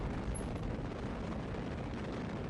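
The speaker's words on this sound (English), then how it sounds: "Fire the boosters." Rocket boosters fire in Kerbal Space Program, a loud, steady broadband roar that holds without a break from start to finish, with no voices over it.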